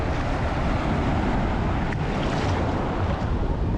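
Loud, steady roar of ocean surf on the beach at Playa del Carmen, continuous wash of breaking waves mixed with wind buffeting the microphone, with no voices over it.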